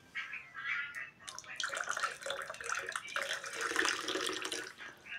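Water pours and splashes close by in a few uneven bursts over several seconds, spilling during a meal of Nepali food.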